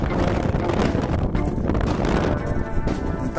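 Strong wind of about 15 metres per second sweeps across Lake Ladoga, buffeting the microphone with loud, continuous roaring gusts that fluctuate in strength throughout.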